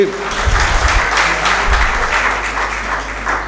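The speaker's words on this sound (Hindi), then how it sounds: "एक भरपूर तालियां एक इनके लिए होनी चाहिए" An audience at a volunteers' awards ceremony gives a full round of applause: dense, loud, even clapping that fills the hall, with a brief murmur at the start.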